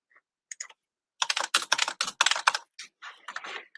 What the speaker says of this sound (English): Just typing that into the chat as well.